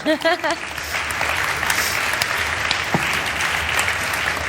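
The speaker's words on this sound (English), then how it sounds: "You can applaud as much as you guys want." Audience applause at a conference's opening fireside chat on stage: a dense, steady wash of clapping from a large crowd that continues evenly to the end, with a brief voice at the very start.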